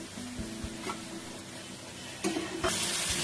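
Water is poured onto cumin and coriander powder frying in a pan, and the sizzle swells into a louder hiss toward the end, with a spoon stirring and clinking throughout.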